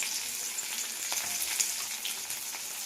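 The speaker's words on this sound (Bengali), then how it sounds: "এবার আমি দিয়ে দেবো লঙ্কা আর পেঁয়াজ কেটে রাখা।" Chili and chopped onion fry in hot oil in a wok, producing a steady, fairly soft hiss of sizzling with faint crackles throughout.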